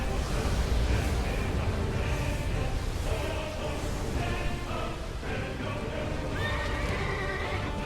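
A large horse neighs in the video game Final Fantasy XVI, its whinny rising over a dense, loud wash of game music and effects, with hoof clatter and splashing water mixed in.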